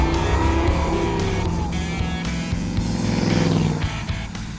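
A 1971 Chevy C10 pickup's swapped-in LT1 V8 engine rumbles steadily for several seconds, deep and loud and close by, then eases off slightly near the end.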